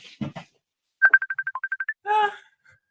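A phone rings with a quick run of short, evenly spaced electronic tones, close and clear, after a brief burst of talk and before another short voice sound.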